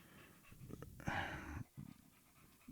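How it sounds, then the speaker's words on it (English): A dog pants hard close to the microphone, quick rhythmic breaths that come in bursts with a short pause, heard alone during a football talk show. "Are you breathing hard over there, Terry?"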